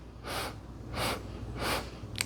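Four short, equal nasal sniffs are drawn in during a breathing exercise, evenly spaced and soft, close to the microphone in a quiet room, with no voice.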